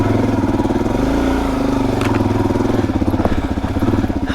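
A Suzuki DRZ400 single-cylinder motorcycle runs on a Colorado trail with 15/38 gearing, its loud, close engine thumping in a steady pulsing throb that rises and falls with the throttle.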